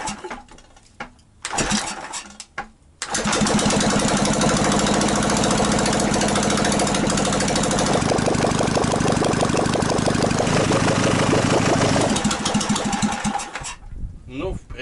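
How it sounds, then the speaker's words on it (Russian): A two-cylinder carburetted petrol engine cranks, then catches and runs loudly and steadily for about ten seconds with a rough, knocking beat before dying away; people speak briefly before it starts. "Сейчас цепляем массу на корпус, вот куда-то вот сюда, и пробуем запускать двигатель."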